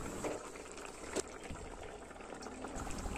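A pot of lote fish curry simmers quietly, its soft bubbling and popping continuing steadily at low volume without interruption.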